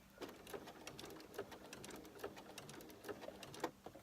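A sewing machine stitches a quilt with a quick, even run of mechanical clicks and whirring, steady and close.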